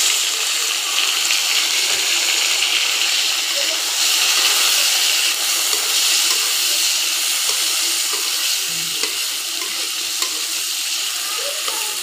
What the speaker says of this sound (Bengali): এখন আমি এর মধ্যে দিয়ে দিব অল্প করে কুচিয়ে রাখা আলু।